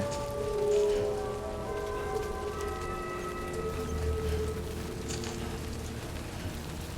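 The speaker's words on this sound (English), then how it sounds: "We got some rain." Steady rain in the video game Death Stranding 2: On the Beach patters on surfaces with a soft hiss, accompanied by faint sustained musical tones in the background; no speech.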